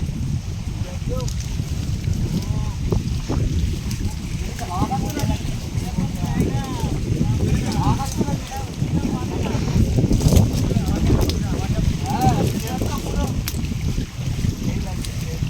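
Wind buffets the microphone in a continuous loud rush on a boat trip along a river in the Sundarbans, with water and boat noise underneath and voices partly masked.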